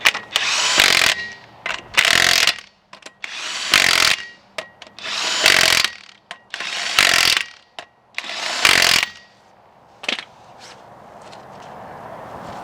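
Impact gun tightening lug nuts on a rear wheel of a GM truck or SUV such as a Silverado, Tahoe or Escalade, firing in about seven loud separate bursts with short pauses between them, then a quiet tail.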